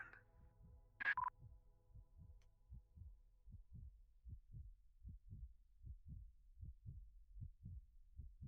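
Steady heartbeat thumps from a video game's space scene: a brief brighter electronic blip near the start, then regular low double pulses repeating about every half second, alone and moderately loud.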